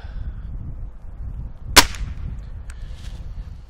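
A Gamo Magnum spring air rifle fires a single sharp crack at an outdoor range, loud and close, followed by a faint distant thump of the pellet on target against low wind noise.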